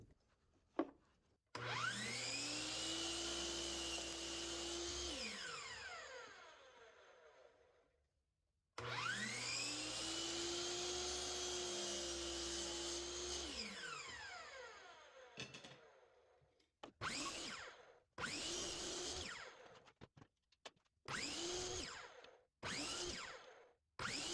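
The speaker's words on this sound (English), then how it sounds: "I set up this stop block on my miter saw so that I can make repeated cuts for the squares" A miter saw fitted with a stop block makes repeated cuts through wood to produce matching squares: two long, loud whining cuts as the blade spins up, bites and winds down, followed by several short, sharp bursts.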